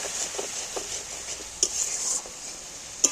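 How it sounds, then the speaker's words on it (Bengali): Spices and chili powder sauté in a pan with a splash of water, giving a steady hiss of sizzling punctuated by a few sharp spoon scrapes and taps against the metal. "এইবার আস্তে আস্তে এইগুলোকে ভালো করে কষিয়ে নেব"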